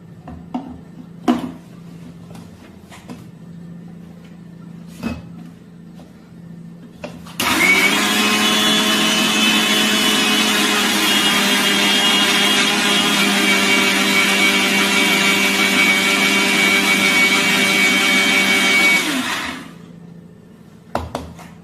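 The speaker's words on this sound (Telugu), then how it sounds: "ఇదంతా మిక్సీ జార్లోకి తీసేసుకుని మనం మిక్స్ చేసుకోవాలి" A mixer grinder starts abruptly and whirs loudly at an even pitch for about twelve seconds, grinding homemade Pitambari cleaning powder, then stops; faint clicks and taps before and after.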